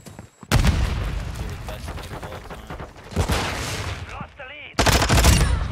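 Video game gunfire rattles in loud, close bursts of rapid shots, pausing briefly between volleys, with a whistling effect before the final heavy burst.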